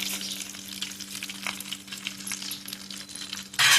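Urad dal and spices fry in hot oil, a close, steady crackling sizzle with faint stirring clinks over a low hum, then a sudden louder burst of sizzle at the end.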